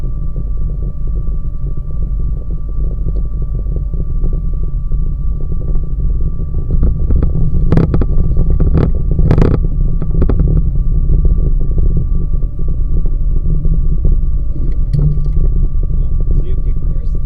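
A 1982 Pontiac Trans Am with Crossfire Injection idles roughly and steadily, its engine drone dominating, with a few sharp irregular pops from misfiring mid-way; a voice speaks briefly over it.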